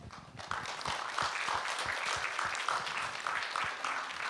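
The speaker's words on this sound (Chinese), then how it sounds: "今晚的同修，让我们以热烈的掌声欢迎" An audience at a Buddhist temple group practice claps to welcome a master, a continuous patter of many hands that is soft and somewhat distant, with no talking.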